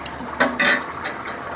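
A metal spoon clinks and scrapes against a curry pot a few times in short bursts while tamarind water is stirred in, close by and fairly loud.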